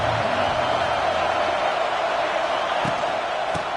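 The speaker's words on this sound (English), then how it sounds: "Decibels rising as the crowd gets behind this defense on 3rd down." Stadium crowd noise rises in a college football video game on a third-down defensive stand, a steady dense roar that holds loud throughout with a couple of brief thumps near the end.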